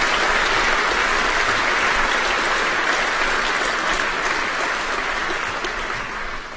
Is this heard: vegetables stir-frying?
no